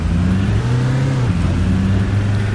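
Bus engine in the Fernbus driving game pulling away from a stop, a loud, close, steady low drone that rises in pitch as it accelerates, then settles and climbs again.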